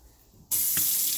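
A sink faucet in a house bathroom is turned on and water gushes steadily and loudly into the basin, with a brief knock as the flow starts.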